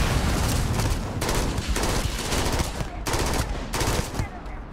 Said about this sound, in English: where are they shooting at us from?